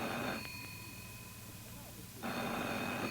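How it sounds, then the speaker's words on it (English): A telephone rings in a radio drama, a single ring that is fairly loud and close. It sits against a background hiss, with a quieter stretch in the middle. "About 3 a.m., the phone rang."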